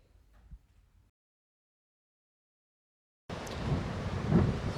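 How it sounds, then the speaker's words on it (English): Rushing wind and rain roar up loudly after a stretch of near silence, a dense steady wash of noise gusting close to the microphone. "It's been very windy today and a lot of rain."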